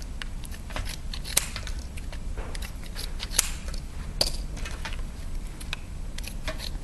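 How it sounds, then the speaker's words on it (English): A few crisp snips of ordinary scissors cutting straight across a strip at irregular intervals, each a short sharp cut, over a quiet background with no talking. "Cuts just with an ordinary pair of scissors"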